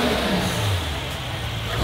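A tuned, nearly 1000-horsepower Mercedes E-Class engine revs up close, a low, grumbly, steady growl that rises and holds without any talking over it.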